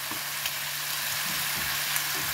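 Seasoned vegetables fry in a hot pan with chicken thighs, giving off a steady close sizzle with a few soft stirring clicks and no voices.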